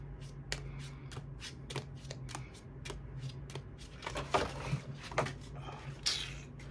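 Tarot cards being shuffled by hand, a steady run of crisp riffling flicks repeating about every third of a second, close and fairly quiet over a low constant hum, growing looser and more irregular toward the end.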